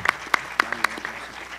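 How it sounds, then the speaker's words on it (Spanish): A brief spatter of audience applause at a political talk, a handful of distinct sharp claps at uneven intervals that quickly thin out. "camarada Mechi Rafael Pérez, para quien pido un aplauso"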